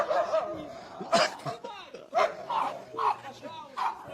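A small dog barks and whimpers in short, high yips and whines, fairly close, with a voice speaking over parts of it.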